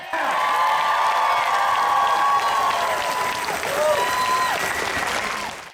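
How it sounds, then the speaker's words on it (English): A crowd at an outdoor No Kings rally and march applauds and cheers loudly and continuously, with whistles and raised voices riding over the dense clapping before it tails off. "that deserves applause"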